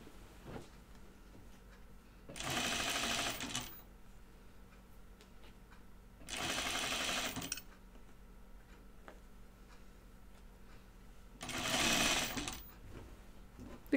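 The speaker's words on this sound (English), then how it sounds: "I feel like I'm sewing left-handed right now" A sewing machine stitches a Tibetan chupa garment in three separate bursts of a few seconds each, fairly close and moderately loud, with quiet room tone and faint ticking between runs.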